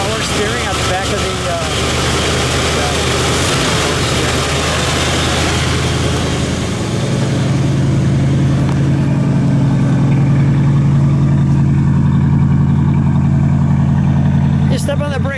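A 1958 Pontiac Parisienne convertible's 348 Tri-Power V8 runs close by, revving and then settling into a steady low idle, with people talking over the engine early on.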